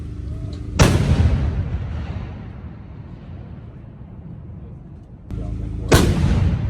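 An M777 howitzer fires twice, each shot a loud, close blast followed by a long rumbling echo that slowly fades.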